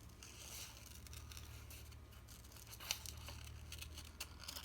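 Paper being cut with scissors during a rooster drawing craft, a faint, continuous crinkly snipping and rustle close by, with one sharper snip near the middle, over a low steady hum.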